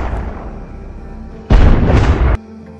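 A gunshot burst in a film scene at a hospital ICU, a single loud broadband blast lasting under a second that cuts in abruptly over a low rumbling background and stops sharply.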